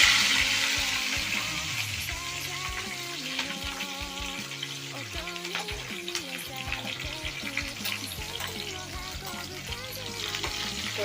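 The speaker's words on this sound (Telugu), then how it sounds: "జీలకర్ర కూడా చిటిపడలాడుతుంది" Cumin seeds crackling in hot oil after mustard seeds for a brinjal and fenugreek curry, a busy steady sizzle with stirring running the whole time, loud and close, with no one talking.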